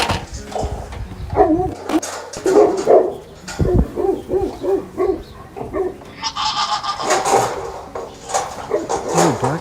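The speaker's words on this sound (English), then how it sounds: "What are you barking at?" A dog barks repeatedly, some calls drawn out almost like howls, near and fairly loud, amid other animal noises at a farm garage holding an old bus.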